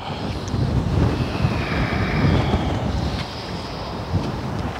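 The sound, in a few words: wind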